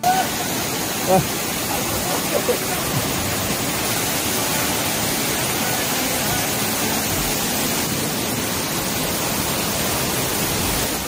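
A small waterfall in the Konkan region near Guhagar gives a steady, dense rushing roar that fills the whole stretch without a break, fairly close and loud, with no clear talk over it.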